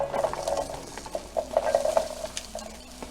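Onions go into hot oil in a pan for a coconut curry shrimp dish and are stirred, a steady close sizzle with repeated utensil scrapes and taps against the pan.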